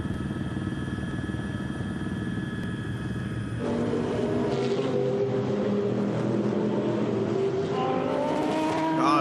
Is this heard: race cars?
yes